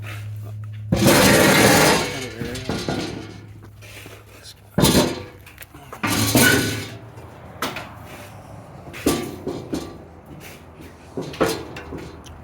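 A bare Jeep Wrangler TJ steel frame is flipped over by hand, producing loud, uneven clanks, thuds and scraping bangs at irregular intervals, close by, with some talking.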